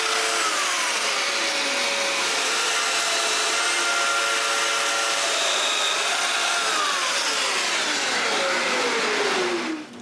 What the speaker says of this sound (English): Now it's possible to cut the mortises that will hold them in place.